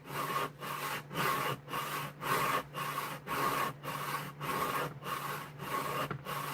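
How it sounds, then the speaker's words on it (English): A knife blade is sharpened on a 200 grit stone in a steady back-and-forth rhythm of about a dozen close, gritty scraping strokes with short gaps between them. ".200 grit shapes your blade on any knife."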